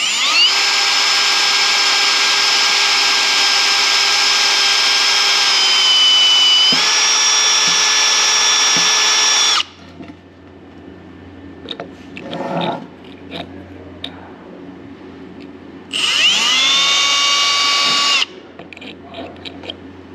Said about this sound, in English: We're just going to drill it out.